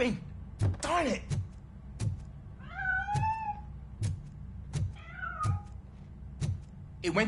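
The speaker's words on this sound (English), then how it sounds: "That cat must be hiding inside." Meows from a cat hiding in a piano in the RoboCop video game, several drawn-out, rising and falling cries amid repeated dull thumps, like knocking, spread across the scene.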